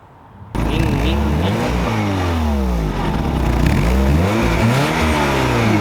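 A Lancia Delta with an Alfa Romeo 1.8 twin cam and a Super Spring exhaust revs loudly and close by, rising and falling through several sweeping revs with a deep, raspy exhaust note.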